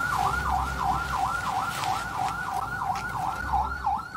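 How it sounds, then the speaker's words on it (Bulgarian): An emergency vehicle siren wails in a rapid, regular yelp pattern, fairly close and continuous over low traffic rumble, identified nearby as a fire truck. "Чуваме ни сирени"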